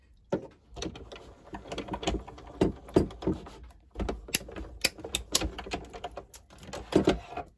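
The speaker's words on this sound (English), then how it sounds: "we will run it through the Stampin' Cut and Emboss" A Stampin' Cut and Emboss die-cutting machine being cranked, giving close, irregular ratcheting clicks and clunks that come in uneven bursts with no speech.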